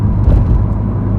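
A 2016 Ford Focus ST with a Stage 1 exhaust rumbles with a deep, steady engine and exhaust drone under acceleration, close and fairly loud in one short stretch.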